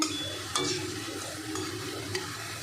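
Jhuri bhaja dough sticks deep-frying in hot oil, a steady crackling sizzle with a few sharp clinks of a utensil against the pan.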